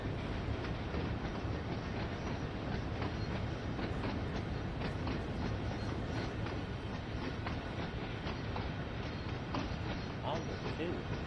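A locomotive running in the Train Sim World 2 video game, a steady rolling rumble with rhythmic clickety-clack of wheels over rail joints throughout, under intermittent talk.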